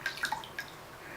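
Water drips from a dampened washcloth onto a face over a sink, a few quick, close, light drops within about a second, with no voices.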